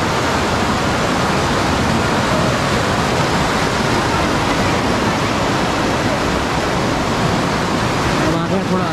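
The Sahastradhara falls roar as a loud, constant wash of rushing water, close and unbroken throughout, with a faint hint of a voice at the very end.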